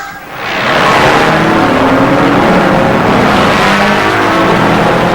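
A loud, roaring race-car engine sweeps in and sustains a dense, high-revving whine for several seconds, with no voices.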